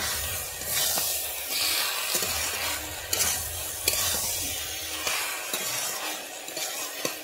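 A hilsa fish head and cabbage curry is stirred in a pan over the heat, a steady close sizzle broken by repeated scraping strokes of a spatula and a few light clinks against the pan, with no voices.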